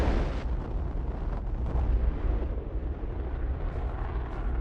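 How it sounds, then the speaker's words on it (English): A rocket firing in the game Fallout 4 produces a loud, sustained roaring blast with a sharp onset, rumbling steadily for several seconds without speech. "badasses don't look at explosions, but this case, it was a rocket fire"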